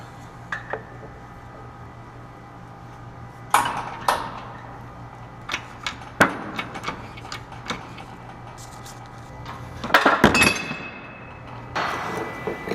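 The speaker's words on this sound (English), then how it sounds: "it's gonna press that hub out" A hydraulic press forces a hub out of a Jaguar independent rear suspension carrier, giving sparse metallic clinks and ticks with a few sharper bangs and a louder burst near the end, close and fairly quiet.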